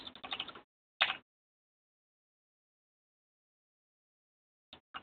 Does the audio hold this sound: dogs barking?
no